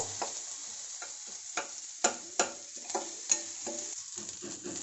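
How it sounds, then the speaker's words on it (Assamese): Ginger, garlic and onion fry in a pan with a soft, steady sizzle, broken by several sharp scraping strokes as a utensil stirs against the pan, close and fairly quiet with no talk. "এয়া মোৰ ভাজি লাগিছে অলপমান।"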